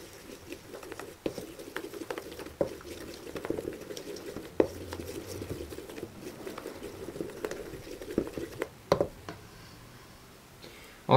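Wet, sticky mixing of protein ball dough with lemon zest in a bowl, soft irregular pattering and clicking from a spoon, fairly quiet and close, with a few sharper knocks.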